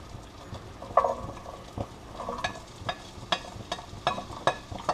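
Onions hit a hot pan for French onion soup and crackle with a soft sizzle, broken by sharp scraping and stirring taps from a spatula, close and moderately loud, with no talking.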